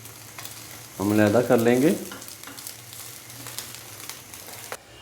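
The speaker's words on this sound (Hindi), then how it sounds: "अंडे को हमने अच्छे से फ्राई कर लिया है" An egg fries on a hot tawa griddle with a faint, steady sizzle, briefly covered by a short spoken remark before the quiet frying continues.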